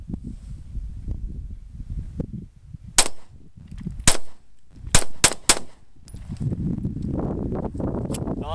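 A Smith & Wesson Shield 9mm pistol fires a few sharp, loud shots at an outdoor range, spaced about a second apart with two in quick succession, between stretches of low wind and handling noise.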